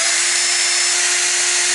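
A power drill with a cheap bit grinds steadily into a hardened metal stud, a loud, continuous high-pitched whine with a constant tone and no pauses.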